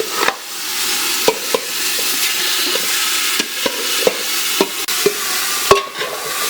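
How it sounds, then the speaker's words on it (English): Meat for sancocho browns in a pot with a loud, continuous sizzle, broken by a dozen sharp clicks and scrapes of a utensil stirring the pieces. No one talks. "I'm just gonna throw all the meat"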